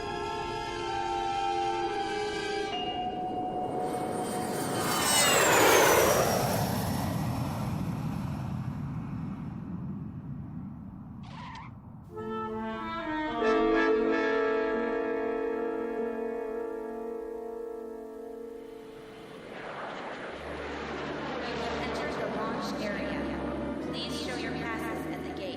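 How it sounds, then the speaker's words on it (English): An airplane landing in a radio drama sound effect, a loud, sweeping engine roar that rises and falls with whining pitch shifts, then settles into a lower, steady hum. "Ladies and gentlemen, in a few moments we shall be landing."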